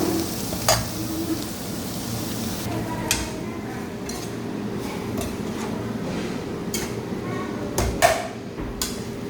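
Baby prawns fry with coriander powder in a pan, a steady sizzle under occasional sharp clinks of a spoon stirring against the metal, while a voice talks in the background.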